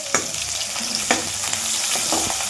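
Garlic, onion and curry leaves frying in a pan, a close steady sizzle broken by several quick stirring scrapes.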